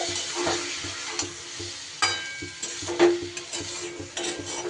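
Taro curry is stirred and fried in a pan, with repeated spatula scrapes and clinks over a moist, steady sizzle.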